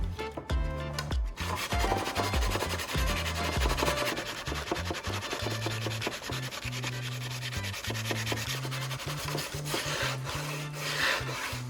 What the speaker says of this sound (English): Now I will continue using sandpaper to clean the entire surface of the saw blade.